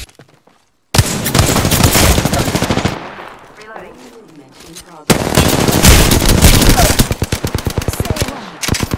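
Rapid automatic gunfire in Apex Legends, two long loud bursts of fast shots separated by a quieter stretch of scattered sounds, with brief voice lines in between.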